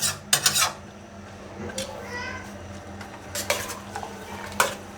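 A spoon stirs a spice mixture with onion and garlic in a pan, giving scattered metallic clinks and scrapes with short quiet gaps, over a low background murmur.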